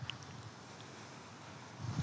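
Wind blowing outdoors makes a steady, faint rumble of buffeting against the microphone, swelling slightly near the end, with no voices.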